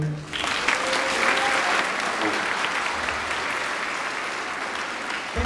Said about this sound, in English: Can we give a round of applause for him?